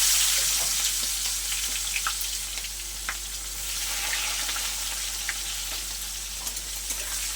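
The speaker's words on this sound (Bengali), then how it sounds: "পেঁয়াজটা লঙ্কাটা লাল লাল করে ভেজে নেব।" Chopped onion and green chilli sizzle steadily in oil left from frying rohu fish, a constant close hiss with small crackles and pops and no voices.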